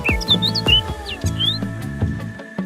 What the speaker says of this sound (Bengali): আর এখানে প্রচুর পাখি রয়েছে, যার কিচিরমিচির শব্দে আপনার মন ভরে যাবে।